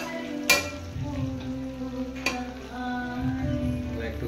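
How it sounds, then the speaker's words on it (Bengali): Potatoes fry in a pan with a soft, steady sizzle, broken by two sharp clinks of a utensil against the pan. "আমার আলুগুলো প্রায় ভাজাও হয়ে গেছে"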